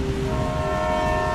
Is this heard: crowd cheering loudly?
no